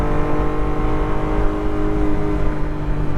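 A 1991 Honda Beat's small engine pulls steadily as the car drives along behind a Jeep. The drone is loud and close, a sustained hum that builds slightly, with no voices.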